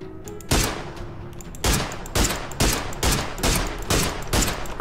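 Gunfire in the battle royale game PUBG: a burst of shots, then a steady run of about seven loud, evenly spaced reports, each a sharp broadband crack with a short tail, with no voices.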